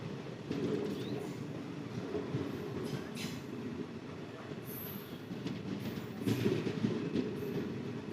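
Kollam Express passenger train rolling steadily along the rails, a continuous rumbling clatter of wheels with occasional high squeals, heard from inside the coach with no talking.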